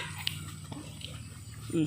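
Newborn puppies let out brief whimpers and a small yelp close by, partly under people talking, over a short moment.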